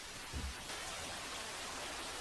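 Steady, even rain hiss fills the scene from Spirited Away, a constant broadband wash at moderate level with a faint low thump near the start and no voices.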